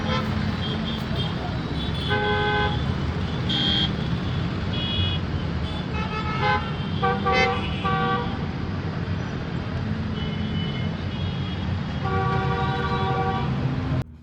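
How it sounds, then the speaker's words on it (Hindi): Busy road traffic rumbles continuously and close, with repeated car and truck horns tooting in short bursts and longer honks throughout, faint talk occasionally beneath. "आपको ट्रैफिक का नज़ारा तो सुंदर दिखता है।"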